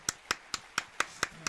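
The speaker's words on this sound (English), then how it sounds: "I'm going to applaud you for that one." Seven sharp, evenly spaced handclaps from a single person on a radio talk show, crisp and fairly close, each a distinct slap with quiet gaps between.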